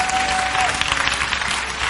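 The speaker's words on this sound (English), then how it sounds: "If you believe that, clap real loud." A loud audience claps steadily and densely throughout at a leadership lecture, with some crowd noise mixed in.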